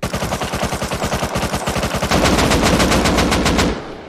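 Rapid automatic AK rifle fire in the survival game Rust, a loud sustained burst of evenly spaced shots that blurs into a denser roar near the end before cutting off, with no talking.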